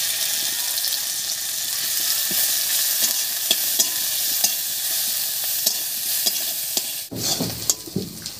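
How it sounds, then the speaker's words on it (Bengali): Crushed green chilli and garlic fry in hot mustard oil in a kadai, giving a steady, close sizzle with scattered stirring clicks and a sharp clatter near the end. "তেল গরম হয়ে গেছে, তেলের মধ্যে দেব থেতো করা কাঁচা লঙ্কা আর রসুন।"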